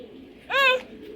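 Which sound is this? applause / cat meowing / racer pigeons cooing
racer pigeons cooing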